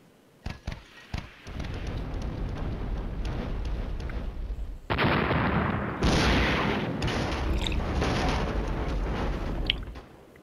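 Tank gunfire in a game battle, a few sharp booms followed by a long, loud, dense roar of continuous firing and rumble that swells midway, heard alone without talk.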